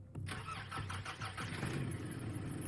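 A worn-out old car's engine cranks with a few rapid stuttering turns, then catches and settles into a steady, rough idle that runs on at a low, even level.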